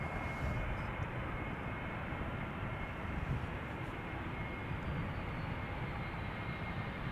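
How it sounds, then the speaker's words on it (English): A Boeing 787-10 Dreamliner arriving from San Francisco at Schiphol Airport gives off a steady, broad engine roar, heard at a distance and evenly loud throughout, with no talking. "the Dreamliner 10 arriving from San Francisco is coming"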